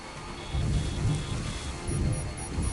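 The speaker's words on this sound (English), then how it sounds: "Scripted rain." Steady rain pouring in a video game, a dense close hiss with low rumbling swells rising and falling, no voices.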